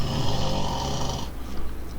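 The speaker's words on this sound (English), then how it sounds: "That snoring." A game character in Fallout 4 snores, a steady, close rasping drone that carries on for a couple of seconds and dominates the moment with no talk over it.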